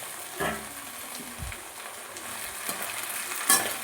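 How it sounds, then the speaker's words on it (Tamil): Drumstick leaf mixture for murungai keerai thokku being stirred and sautéed in oil in a pan: a steady soft sizzle with a few scattered spoon knocks and scrapes, close and fairly quiet. "இப்போ நல்லா அதை வந்து நம்ம கிண்டி விட்டு வதக்கிடுவோம்."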